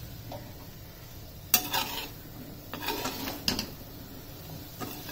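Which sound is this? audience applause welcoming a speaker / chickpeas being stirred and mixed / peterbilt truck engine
chickpeas being stirred and mixed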